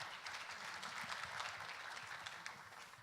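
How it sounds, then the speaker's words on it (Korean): Audience applause welcoming a speaker at a youth policy forum, steady broad clapping at moderate, somewhat distant level for the full stretch, with no voices over it. "큰 박수로 맞이해 주시기 바랍니다."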